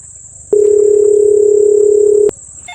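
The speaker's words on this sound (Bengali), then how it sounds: "একটা ফোন দিদি লালুরে।" A telephone line sounds a single loud, steady electronic tone lasting about two seconds while a call is being placed. It starts and stops abruptly between quieter stretches, with no talking.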